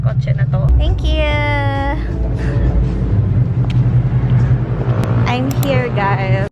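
Loud, steady low rumble of a car interior runs throughout, with voices talking over the engine and road noise.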